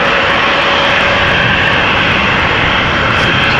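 Steady, loud roar of a Transavia Airbus A321neo jet departing Amsterdam Schiphol for Malaga, a broad continuous engine rumble holding evenly throughout with no voices.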